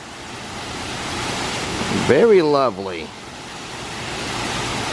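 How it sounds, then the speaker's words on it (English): A waterfall on a resort patio, a steady loud rush of falling water running throughout while a person briefly speaks over it partway through. "You have a waterfall out here."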